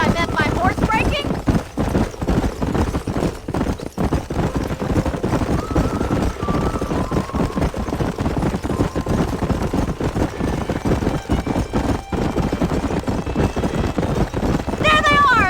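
Horses' hooves clatter in a fast, continuous gallop with an occasional whinny in the video game Red Dead Redemption, while people talk over the rhythmic pounding throughout.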